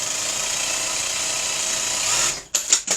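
A sewing machine stitching red quilt fabric squares runs in a continuous fast whirring hum, then stops, followed by a few short bursts of stitching.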